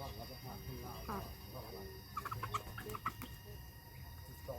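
Chickens on a rural farm clucking softly in the background, with a few sharper clucks clustered near the middle, while someone talks over them.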